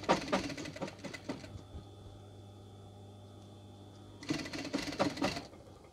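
Sewing machine stitching hard along the piped edge of a scatter cushion: a short burst of rapid mechanical stitching, a pause with a faint steady hum, then another close burst.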